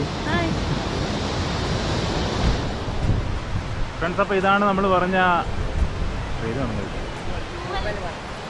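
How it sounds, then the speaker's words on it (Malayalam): Steady rushing water from Thooval waterfall in Idukki fills the scene as a constant broadband roar, with someone talking over it partway through. "തൂവൽ വാട്ടർഫാൾ"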